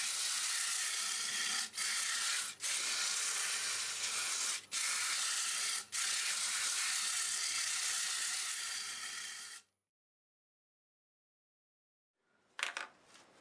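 Sandpaper rubbing against a spinning wood turning on a lathe, a loud steady hiss broken by a few brief gaps, then stopping into silence before a short scuff near the end.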